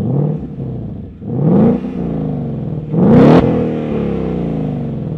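A stock 2018-or-later Ford Mustang S550 with active exhaust revs twice in close succession, each blip of the V8 rising sharply and then settling back to a steady idle.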